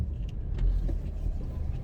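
A car rolls along Red Hills Road, heard from inside as a low, steady engine and road rumble with a few faint clicks and rattles over a short stretch.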